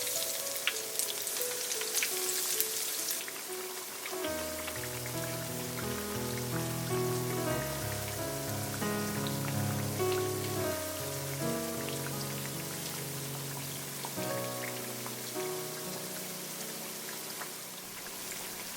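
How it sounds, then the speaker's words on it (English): Bananas frying in hot oil over medium heat, giving a steady crackling sizzle that runs throughout beneath prominent tonal music. "Make sure the oil is hot before you fry your banana."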